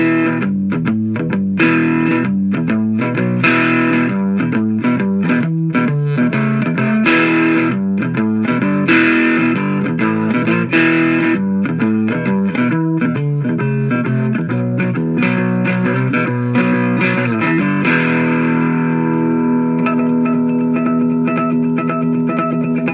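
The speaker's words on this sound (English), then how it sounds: "Next is the humbucker. Now listen how fat this sounds." Cigar box guitar with a humbucker pickup and a Psycho Knob control, played loud and thick with distorted, effected tone; a steady stream of chords and riffs runs without pause, ending in a long ringing sustained chord.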